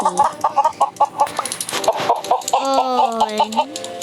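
Rhythmic, close chicken clucking in the video game Mini World repeats steadily, with a brighter drawn-out squawk near the end over a faint background hum.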